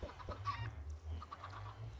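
Chicken clucking in a Minecraft-style video game server, a few short close clucks over a low steady hum.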